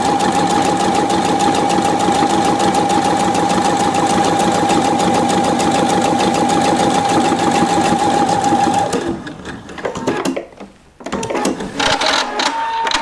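A Pfaff 720 sewing machine stitches buttonholes in fabric such as wool, denim, chiffon, cotton and ponti knit, running loud and steady with a fast mechanical whir for about nine seconds, then slowing, pausing briefly and starting again.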